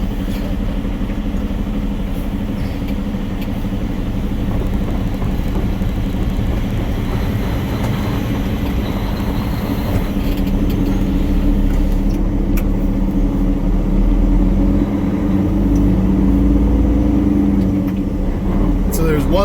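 A 2022 Peterbilt 389 truck rolls slowly around a corner, a steady loud low engine drone with road rumble throughout, heard from inside the cab as a person talks.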